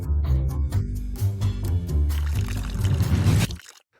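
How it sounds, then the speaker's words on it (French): Reverse osmosis filtered water pours steadily into an aquarium, a continuous close splashing stream that swells near the end and then cuts off abruptly into silence. "je vais remplir l'aquarium avec de l'eau filtrée par osmose inversée"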